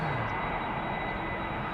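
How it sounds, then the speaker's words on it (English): An airliner takes off at Amsterdam Schiphol Airport, its engines making a steady broad roar at moderate distance that holds constant throughout, with a faint rising whine at the start. "Now, if you like the sound of that airplane"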